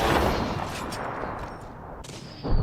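Dense gunfire in a shooter video game rattles in bursts, loud at first and then thinning out, with a sharper crack right at the end.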